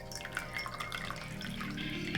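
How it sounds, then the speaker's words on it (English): Hot water pours into a cup for tea, a faint trickling and dripping of liquid with the pitch rising slightly as the vessel fills. "Pour our hot water."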